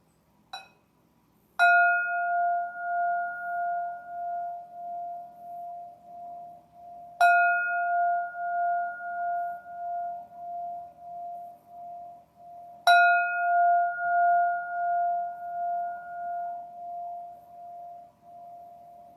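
A meditation bell struck three times at even intervals of about six seconds during a guided breathing meditation, each strike ringing out clearly and decaying slowly with a sustained tone, with no talk over it.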